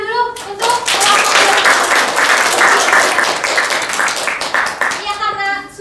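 Classroom applause for a student group during a microteaching practice lesson: dense, steady clapping from many hands that lasts nearly six seconds, with voices faintly audible at the start and end.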